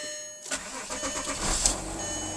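After a moment of quiet, a Skoda Superb 2.5 V6 with 126,370 miles cranks and catches, then settles into a steady, moderately loud idle nearby.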